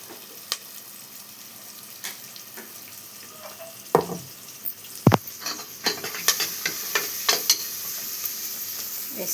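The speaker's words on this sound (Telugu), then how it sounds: "ఇది బాగా వేగనివ్వాలి." Frying in a pan while cooking chicken, with steady crackle and sizzle and irregular clinks and scrapes of stirring, loudest midway and continuing to the end.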